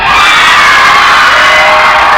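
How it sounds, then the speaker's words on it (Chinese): Crowd screaming sound effect played through a Kase FX5 live-stream sound effects unit, a loud, continuous wash of many high shrieking voices with cheering, steady throughout. "尖叫声"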